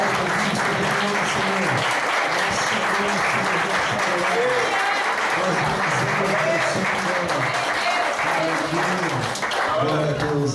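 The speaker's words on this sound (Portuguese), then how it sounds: "Você pode aplaudir ao Senhor?" A church congregation claps for the Lord in sustained applause, while voices and sung or shouted praise carry over the clapping throughout.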